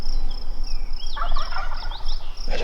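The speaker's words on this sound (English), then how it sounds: "There's at least one gobbler there. You hear that?" A wild turkey gobbler gobbles on public land in Oregon, a rolling burst of calls in the middle of the clip. It is set over steady insect and outdoor background noise, and no one speaks.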